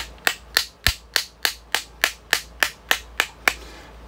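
A hammer taps sharply about a dozen times in a steady, even rhythm, each strike crisp and close with a short ring, seating a magazine extension onto a Taurus TX22 magazine.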